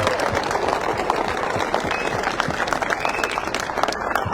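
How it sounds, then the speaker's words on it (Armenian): A crowd at a community meeting in Oshakan, on a rainy day, claps steadily in dense, sustained applause, loud and close throughout. "եկեք բուրըն ծափերով մի հատ իրար ողջունենք"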